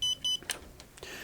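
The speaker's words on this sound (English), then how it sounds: "that was the low battery alarm" Low battery alarm on Aomway Commander FPV goggles, sounding as two loud, steady electronic beeps in quick succession, followed by faint clicks and handling noise.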